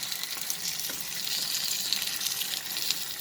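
A paratha sizzles steadily in oil on a pan over low flame just after being flipped, a continuous soft crackling hiss that holds even for about three seconds with no talking.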